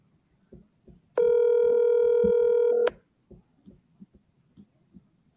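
A telephone emits a single long electronic ring tone lasting under two seconds during an outgoing call, loud and clear against quiet background clicks.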